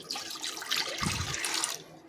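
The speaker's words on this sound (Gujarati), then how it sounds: "કુકરની અંદર થોડું પાણી વેડી અને બધું હલાવીને લઈ લઈશું" Water poured into a pressure cooker holding mashed raw mango, a short gushing splash that runs for under two seconds and then stops, close and alone.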